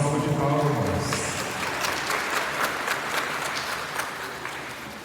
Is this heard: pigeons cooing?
no